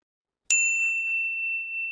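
A phone ringtone or notification chime starts abruptly and then holds as a steady, clear electronic tone in a quiet home, with no talking over it.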